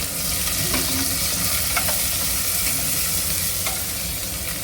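Ginger garlic paste and green chillies frying and being stirred in a pan for a Telugu dal khichdi, a steady close sizzle with occasional scraping clicks of the spoon throughout.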